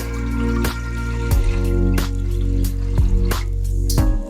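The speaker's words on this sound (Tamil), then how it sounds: "இதில் நான் 1 லிட்டர் தண்ணி ஊற்றுறேன்." Water pours into a cooking pot for sago payasam in a steady, filling stream, broken by several sharp clanks and splashes along the way.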